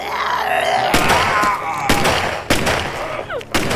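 Gunfire in a Hindi-dubbed action film set near an airport, with several loud, sharp shots in irregular bursts ringing out over a tense soundtrack and scattered voices.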